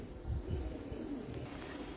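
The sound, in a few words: female pigeon cooing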